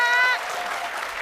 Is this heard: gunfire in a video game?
no